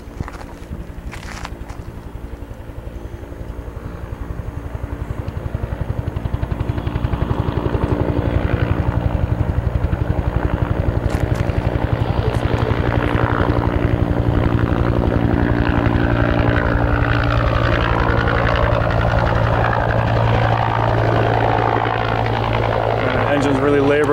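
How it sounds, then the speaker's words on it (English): A California Department of Forestry fire helicopter flies overhead and hovers over the ocean to scoop water, its rotor and engine building to a loud, steady, laboring roar with a rhythmic thump. Wind noise is mixed in. "So you can hear the helicopter in the background."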